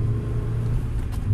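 Renault Twingo RS Cup engine held at steady high revs for a launch start, a loud continuous droning rumble heard close up, with no speech over it.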